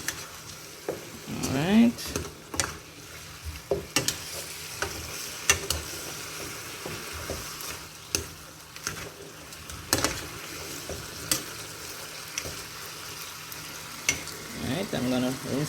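Pork pieces for Jamaican brown stew frying in a pot, a steady close sizzle with stirring and scraping clatters as the pieces are turned, and a brief spoken word.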